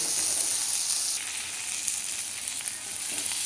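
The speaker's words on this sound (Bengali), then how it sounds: "এই পটলগুলোকে আলাদা আগে ভালো করে ভেজে নিচ্ছি" Pointed gourd (potol) pieces fry in hot oil in a home kitchen, giving off a bright, continuous sizzle that eases slightly partway through, with faint stirring crackles.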